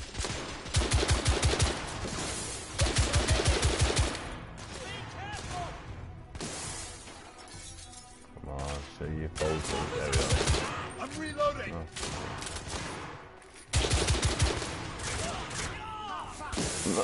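Blind fire in the video game The Order 1886: loud rapid bursts of gunfire come in several clustered volleys separated by short lulls, with voices occasionally heard underneath.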